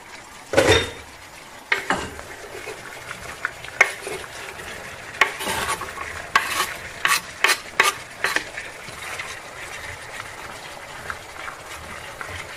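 Onions frying in a pan, with a steady sizzle under repeated clinks and scrapes of a utensil against the pan as they are stirred.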